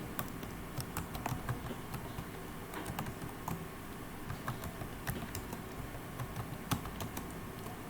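Keys clatter on a computer keyboard during a Microsoft Word lesson, a steady run of soft, close clicks with a few sharper taps and no voices.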